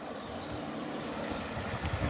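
Water flowing steadily outdoors, a continuous close rushing wash with no pauses or voices.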